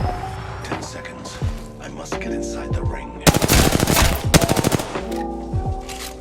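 Rapid automatic gunfire from fighting in the video game Apex Legends, with scattered shots and then a dense burst of loud, close bangs midway, plus sharper single shots around it.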